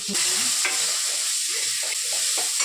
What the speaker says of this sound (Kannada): ಫಸ್ಟು ಈರುಳ್ಳಿ ಹಾಕ್ತಾಯಿದ್ದೀನಿ ಮತ್ತು ಬೆಳ್ಳುಳ್ಳಿ ಲವಂಗನ ಲಾಸ್ಟಲ್ಲಿ ಹಾಕ್ತಾಯಿದ್ದೀನಿ